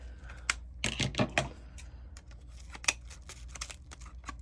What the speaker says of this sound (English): I use my heavy duty scissors, because it cuts through wired ribbon like butter.